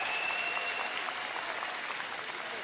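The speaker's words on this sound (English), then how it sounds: "Canadian crowd really appreciating that performance from Brad Gushue and his team" A Canadian crowd at a curling match applauds a team's performance, a dense, steady wash of clapping filling the arena from start to end.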